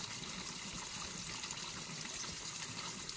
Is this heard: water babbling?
yes